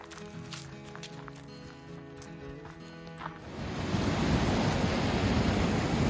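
Creek water runs beside a trail at Rampart Reservoir, a steady broadband rush that swells in after a few seconds of quieter ambience and then continues close and loud.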